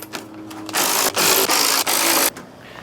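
Power tool spinning out small 10mm core support bolts on a Mercedes W210: a loud, close, buzzing whir in a few quick bursts with short gaps, about a second and a half in all, with no voices.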